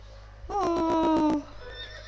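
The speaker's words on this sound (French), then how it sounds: "Ah, un cheval." Horse neighing in the video game To the Moon: one loud, close whinny with a rapid quavering pulse lasting about a second over faint background hum.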